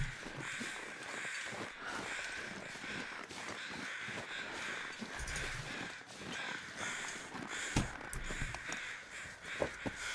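Crows cawing over corpses in the survival video game The Long Dark, repeated harsh calls layered over a windy outdoor ambience, moderately distant, with no talking.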